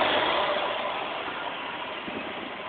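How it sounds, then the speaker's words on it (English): A 1973 Mercedes 450SL air conditioning compressor runs with a steady broadband whir and hiss, a continuous noisy drone under the car's engine that holds level and fades slightly over a few seconds. "Compressor spinning again. I think it's making some noise right now."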